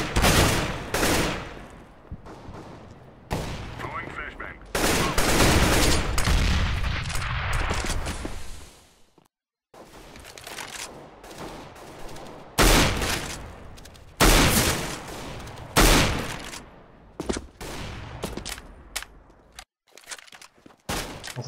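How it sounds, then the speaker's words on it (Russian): Rapid bursts of Scout sniper rifle and other gunfire in a Counter-Strike: Global Offensive match, loud and close, separated by short gaps with footsteps between shots and no talking. "Хорошая пушка на самом деле, именно в CSGO."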